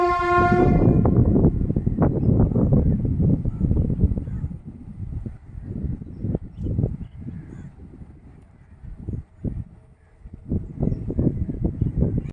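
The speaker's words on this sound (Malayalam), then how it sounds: "ട്രെയിന് ഈ തെങ്ങുകൾക്കപ്പുറത്താണ് റെയിൽവേ ട്രാക്ക് വരുന്നത്" A train horn blares at the start, then a long rumble with rhythmic clatter of rail cars passing nearby beyond coconut palms in Kochi, crows cawing in the background.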